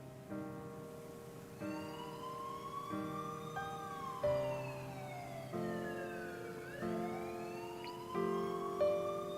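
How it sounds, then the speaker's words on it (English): Faint, distant police sirens wail at night over Shibuya, several overlapping tones rising and falling steadily throughout, with no voices. "In the distance, she could faintly hear the sound of police sirens."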